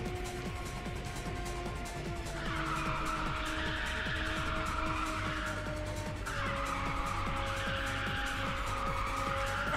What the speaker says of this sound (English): Give it up for nitrous drifting